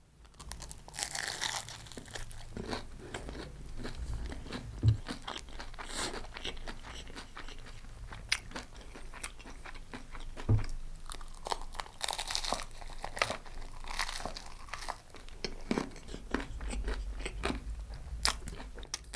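Crisp fried food, likely Amritsari paneer or chaap, crunched at close range over nearly twenty seconds with repeated bites and crackly chewing against a busy restaurant background.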